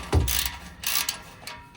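A socket ratchet tightens the bolt on a 10-inch stainless steel truck exhaust tip, giving three short clicking bursts close up, with no talking.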